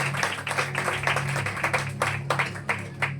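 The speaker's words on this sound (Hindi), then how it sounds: "आइए परमेश्वर के वचन के लिए जोर से ताली बजाएं" A congregation at a New Year church celebration meeting claps together, giving dense, steady applause with rhythmic peaks, fairly close and loud, with faint voices mixed in.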